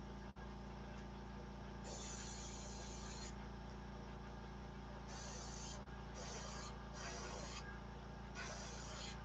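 An airbrush sprays paint onto a crappie swimbait lure in repeated hissing bursts of a second or so each, separated by pauses, over a steady low room hum.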